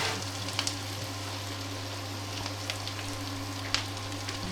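Garlic and ginger fry on an induction hob with a steady, gentle sizzle and a low electrical hum underneath, broken by a few faint clicks of utensils.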